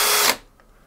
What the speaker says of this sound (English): That's my fast drill.